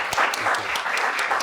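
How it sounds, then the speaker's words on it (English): Audience members give a round of applause to the panelists at the close of a talk on the U.S. midterm elections forecast, brief close clapping throughout. "let's give them a nice round of applause"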